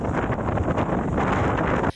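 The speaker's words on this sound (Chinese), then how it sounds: "垦丁南湾风雨转强，海浪一波接一波来，水上摩托车几乎寸步难行。" Strong storm wind from a typhoon's outer circulation blasts across Kenting's South Bay, a loud, continuous roar buffeting the microphone with gusty surges and no voices.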